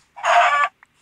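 A single short chicken cluck from the video game Minecraft, a clear close squawk lasting about half a second, followed by a faint tiny blip and then silence.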